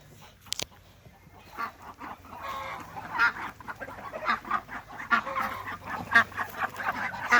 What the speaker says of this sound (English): See my ducklings?